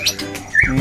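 White-rumped shamas (murai batu) at a breeding farm give brief high chirps and a rising whistled note, fairly close, followed by a low rumbling background.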